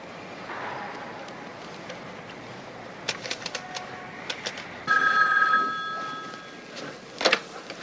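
A telephone rings in a TV crime drama with a short electronic trill partway through, over a quiet room with faint clicks and shuffles.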